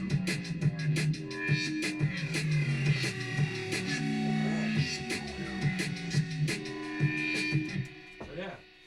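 A reverb-soaked synth bassline built in Ableton Operator plays with a programmed drum beat, with steady low melodic notes under crisp, regular percussive hits throughout.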